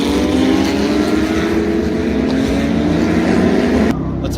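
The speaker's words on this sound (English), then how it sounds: "Here comes the Porsches." Loud Porsche race cars roar past on a track under caution, a dense engine drone heard through heavy wind buffeting that cuts off abruptly near the end.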